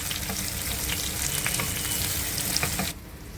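Eggplants fry with turmeric in a pan, giving a steady, loud sizzle with scattered pops and stirring, which cuts off abruptly near the end.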